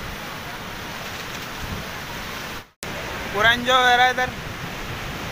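Large ocean waves crash on a Goa beach during rain, a continuous broadband roar of surf throughout, with someone briefly speaking over it near the end.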